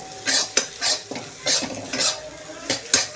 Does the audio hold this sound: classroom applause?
no